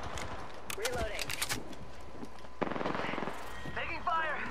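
Gunfire in Apex Legends, the online shooter game, comes as repeated sharp shots in quick runs, moderately loud amid other game effects, with no one speaking.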